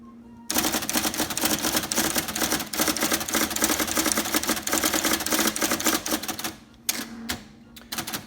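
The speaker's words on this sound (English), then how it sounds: "Keep typing out into the right margin, hit return, and it comes back to the left." Rapid, steady clatter of key strikes from an IBM Selectric electric typewriter, close and loud, running continuously before breaking into a few spaced final strikes and a carriage return, with no one talking.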